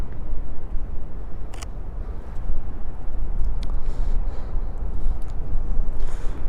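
A Sony A7 III with an 85mm lens fires a single shutter click on a windy, rainy street, a brief sharp snap standing out against steady wind rumble.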